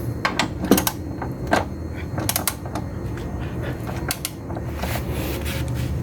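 Ratcheting and clicking while the bolts of a Chevrolet Spin's rear shock absorber are tightened, irregular sharp metallic clicks and ticks in quick bursts over a low background hum.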